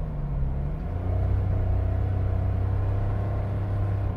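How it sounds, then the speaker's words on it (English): A 2021 Mitsubishi Mirage's 3-cylinder engine hums with a low, steady growl while driving, rising slightly in pitch after the first second and holding a constant drone throughout. "Just listen to that engine. That 3-cylinder growl."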